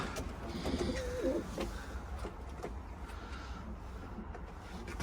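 Pigeons kept shut in their loft during a storm coo softly and repeatedly, a low steady murmur with brief flutters, close by and without talk.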